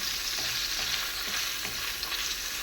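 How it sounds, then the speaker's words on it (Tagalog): Korean tofu frying in a pan, a steady close sizzle and crackle with faint stirring scrapes, no voices. "Unahin natin ilagay yung ating tofu, yung ating Korean tofu para ma-fry ng konti."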